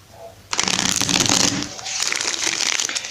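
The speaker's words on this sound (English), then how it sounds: "last shuffle" A deck of tarot cards is shuffled close up. After a quiet moment there is a sudden riffle of crisp, papery flicking that runs for about a second, then settles into softer, continuous card rustling.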